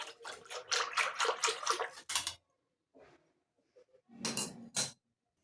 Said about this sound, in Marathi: आता आपण अजून 1 ग्लास पाणी घालून दिलेलं आहे